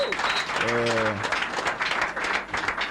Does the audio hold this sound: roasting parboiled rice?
no